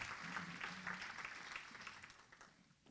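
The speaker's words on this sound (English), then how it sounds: "Please give him a round of applause." Applause from an audience at a women's empowerment breakfast, a soft, steady patter of clapping heard from a distance that slowly fades.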